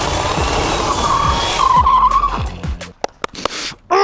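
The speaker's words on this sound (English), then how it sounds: "It almost drives better when you're drifting" An electric drift kart slides with its tires screeching in drawn-out squeals over a close, loud motor whine, then gives a few sharp bursts of skidding and rattling as it slows, with no talking.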